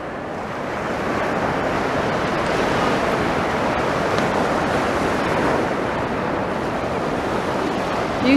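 Steady roar of sea waves washing onto a shore on an evening beach walk, continuous and fairly loud, with wind noise and no talking.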